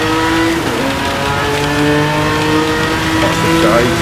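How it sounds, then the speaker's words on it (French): A Ferrari Dino racing car engine in Gran Turismo 7 roars steadily at high revs on the Nürburgring GP circuit, its tone rising and shifting as it accelerates, loud and close, with a voice talking over it. "cette Ferrari Dino, c'est un son vraiment monumental"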